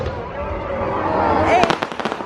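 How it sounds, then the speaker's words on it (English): Fireworks burst in a rapid run of sharp pops and crackles toward the end, preceded by a busy theme-park crowd with people talking over the din. "Some fireworks going off."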